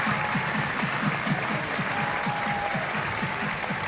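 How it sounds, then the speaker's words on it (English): A large crowd at a bouldering climbing competition roars and applauds continuously, a dense wash of clapping and cheering with rhythmic thumping underneath. "And a huge roar from the crowd."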